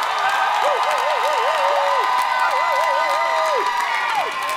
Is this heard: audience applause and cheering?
yes